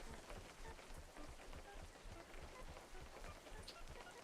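Steady rain in the fishing video game Webfishing patters continuously as a dense, even hiss of drops on surfaces, with no voices over it.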